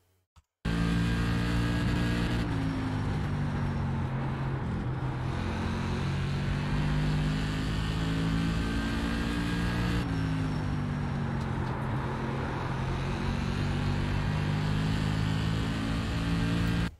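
A race car runs a lap at Langley circuit, its engine droning loud and continuous with repeated rises in pitch as it accelerates, brief drops for gear changes, and a steady roar between.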